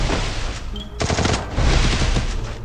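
Rapid submachine gun fire, an MP40 in the video game Free Fire, sounds in dense loud bursts through most of the stretch, with a short pause before the fire resumes.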